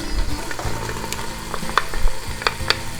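Onions and fennel sizzle and fry in a pan on medium heat for a cioppino seafood stew, with a steady crackle and occasional stirring and scraping sounds close by.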